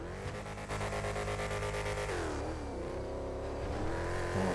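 A 2020 Lamborghini Huracan Evo in GTA 5 launches hard, its engine roaring loud and continuous as the revs climb, with a gear change partway through before the pitch rises again.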